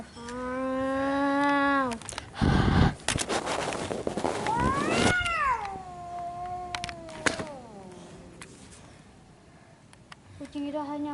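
A cat gives several drawn-out, wavering meows and caterwauls, fairly loud and close. Bursts of other noise break in between the calls.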